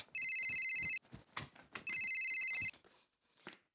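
A telephone rings in two electronic bursts, each lasting just under a second, clear and close, with quiet clatter and footsteps of indoor household activity between them.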